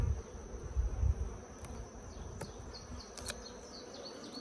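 Honey bees humming around an open Layens hive, a steady close buzz with occasional louder passes of individual bees, no voices.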